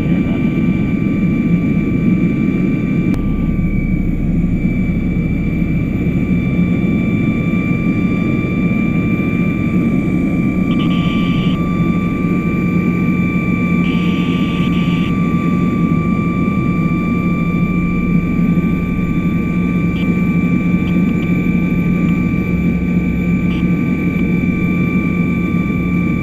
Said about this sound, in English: we do that all the way up into our cruise altitude